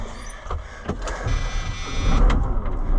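An AGCO 9650 tractor engine cranks and fires up, brief mechanical whirring and clicks followed by a rising, rumbling idle nearby.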